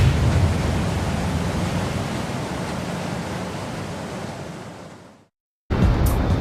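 High-speed turbine ferry crossing the Río de la Plata from Buenos Aires, with a loud steady roar of water rushing past the hull, broadband and continuous, cutting out briefly near the end before resuming.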